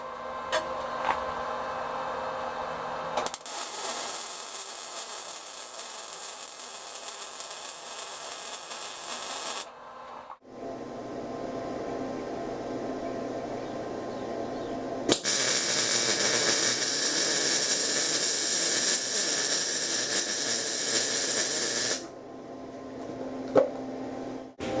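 Two long bursts of MIG welding crackle and hiss on a chop saw stand during a downhill weld, separated by a short pause with a lower steady hum between and around them.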